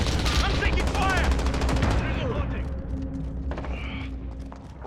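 Rapid automatic gunfire from Call of Duty Modern Warfare, loud and close in fast, rhythmic bursts for about two seconds, followed by quieter battlefield noise and distant shots while radio voices speak over it.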